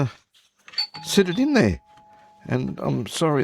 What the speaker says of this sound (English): that's my doorbell in the background there.